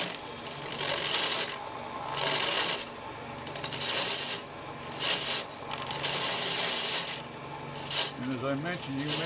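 Wood lathe gouge cutting a wooden baluster into a cylinder between two squares, a continuous rasping scrape rising and falling in bursts as the tool arcs from scraping to cutting position, close up with a spinning hum beneath.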